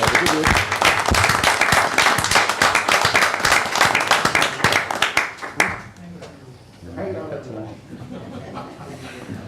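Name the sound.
audience applause at town council meeting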